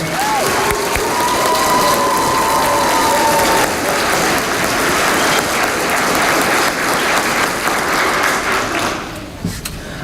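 An audience at a school vocal department's May concert in Denver applauds loudly and continuously, a dense wash of clapping with some cheering, close and sustained before tapering slightly at the end.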